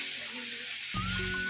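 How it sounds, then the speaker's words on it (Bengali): Jackfruit curry sizzles and fries in a pan on a gas stove, seasoned with garam masala, with a steady close hiss and a brief stir near the middle. "গরম মশলাটা দিলাম, দেওয়ার পর একটু নাড়াচাড়া দিয়ে"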